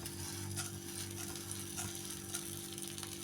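Chana dal and urad dal roast with mustard and cumin seeds in a little oil for curd rice, making a close, steady, continuous sizzle and crackle with no talking.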